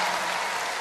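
Dense, steady clapping from a large festival crowd at a live concert at Pukkelpop in Belgium, a broad continuous wash of applause filling the whole moment with no voices standing out.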